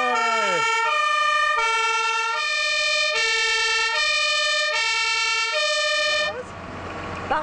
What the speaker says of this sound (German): er darf die Sirene im Feuerwehrauto ausprobieren